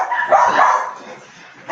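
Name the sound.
dog barking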